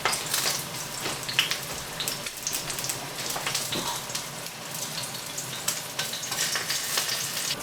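Black pudding slices brown in a frying pan, giving a steady, busy sizzle with crackling pops scattered throughout, fairly quiet and with no voices.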